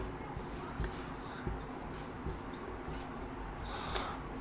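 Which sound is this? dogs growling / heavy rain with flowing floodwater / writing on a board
writing on a board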